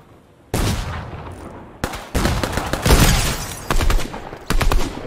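Loud sniper rifle gunfire in the video game Fortnite amid a crowded late-match fight, several sharp cracks with echoing tails and quick follow-up shots, close and dominant with no talk.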